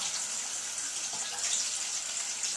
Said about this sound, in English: You're going to fill this up with hot, scalding water.